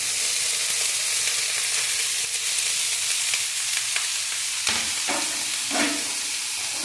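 Finely chopped banana stem sizzles steadily in a frying pan, a continuous close hiss with a few soft stirring scrapes near the end.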